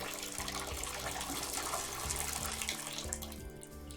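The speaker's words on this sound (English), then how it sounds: "it sounds like it's one of those bath shower hybrid things, combinations" Steady rush of running water from a bath and shower combination fixture, continuous and fairly close, with a faint tonal hum beneath it.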